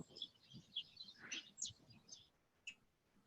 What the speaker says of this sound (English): this wall has nothing but birds living inside it